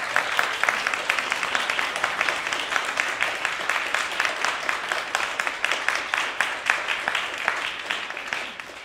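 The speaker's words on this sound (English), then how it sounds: "can we please give a round of applause to Charles and Trina for setting this up?" An audience at a literary talk on writing under the influence of Patrick Leigh Fermor breaks into a steady round of applause, dense overlapping claps rolling on for several seconds before tapering slightly at the end.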